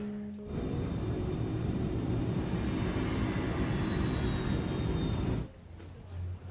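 Airliner jet engines throttled back to flight idle after level-off at 2,000 feet, following a right engine failure: a steady, loud broadband roar with a faint high whine that holds for about five seconds, then drops off sharply.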